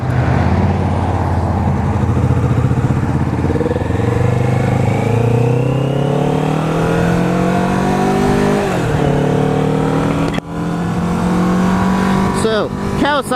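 A 2015 Kawasaki Vulcan S motorcycle pulling away, its engine loud and close with rising pitch through several gear changes, a brief dip near the end, then quick revs.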